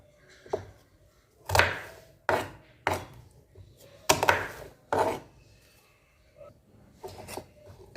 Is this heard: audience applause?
no